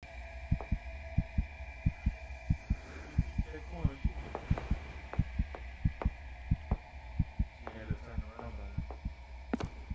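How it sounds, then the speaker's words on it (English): A heartbeat in the horror video game Crimson Snow thumps in a steady, fairly rapid double rhythm over a low droning hum, with a voice talking over it. "It's a heartbeat."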